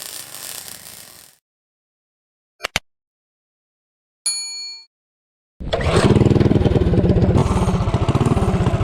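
A Tillotson 212 engine with a 3-inch intake and 24mm flat slide carburetor roars loud and close during a 0 to 30 run, after a few sharp clicks and a short tone amid silence.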